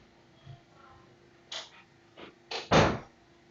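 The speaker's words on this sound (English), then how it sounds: "Oh yeah, I need to close my door." A household door is handled and shut, giving a few separate knocks and clunks that end in one firm, close bang, with quiet pauses between them.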